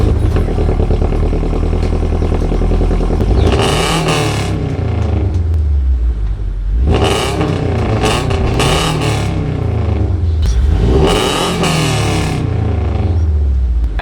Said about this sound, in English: So that is what the car sounds like, you guys, with just a tomei header and parent catback exhaust.